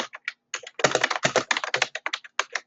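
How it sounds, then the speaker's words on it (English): Rapid keystrokes on a computer keyboard at home, close and crisp, coming in irregular bursts of quick clicks with short pauses between them and no voices. "And Steven, I'm typing this for you."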